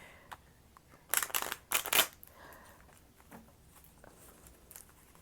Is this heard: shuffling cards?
yes